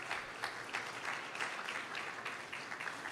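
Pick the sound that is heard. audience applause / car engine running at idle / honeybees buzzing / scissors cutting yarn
audience applause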